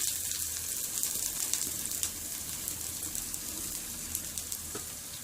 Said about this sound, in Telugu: ఫ్రై చేసుకున్న తర్వాత సన్నగా కట్ చేసి పెట్టుకున్న ఆనియన్ వేసుకోవాలి